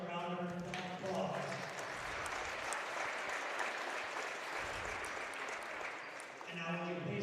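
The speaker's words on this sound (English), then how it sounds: "Please give our officials a round of applause." Crowd applause for the officials at a high school girls and boys basketball game in a gym, a steady broad clapping wash lasting several seconds with an announcer's voice at the start and end.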